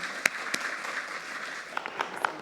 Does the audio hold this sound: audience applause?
yes